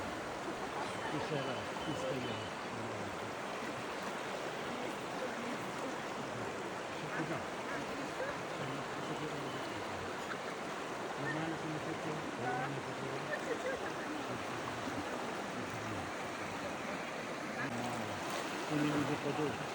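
Steady, full-bodied rush of Southern Bug river rapids flowing over rocks, constant and close, with a faint voice now and then underneath.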